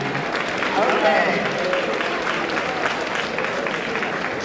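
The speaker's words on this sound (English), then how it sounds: "Let's applaud all those that ran." Applause at South City High for students who ran for student body office: a sustained, even wash of many hands clapping close by throughout, with a brief spoken word over it.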